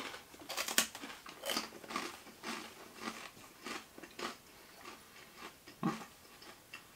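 Close, crisp crunching and biting of Halloween candy from a monthly snack box, a series of irregular crackly bites and chews spread over several seconds, fairly quiet and alone.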